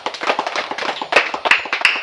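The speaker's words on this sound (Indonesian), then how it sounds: "Semua tepuk tangan." A group claps hands together in a brief, loose burst, the sharp claps close and uneven with a few louder strikes standing out, with no talk over it.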